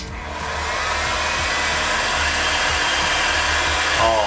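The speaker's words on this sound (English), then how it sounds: "Now I'm going to take the heat gun." Heat gun blowing a steady, loud airflow roar over wet paint on the midsole of a 2004 Nike Air Max 90 "Bacon" sneaker, continuous and close for several seconds.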